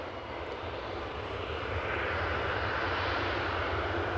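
KLM Boeing 787-9 Dreamliner, six years old, at Amsterdam Schiphol Airport: a steady jet engine roar that swells slightly louder partway through as the aircraft draws nearer, with no voices.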